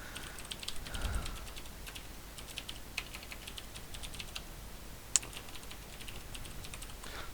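Quiet tapping of keys on a computer keyboard while entering a username and password, sparse light clicks with one sharper tap, faint and close against a soft background hiss.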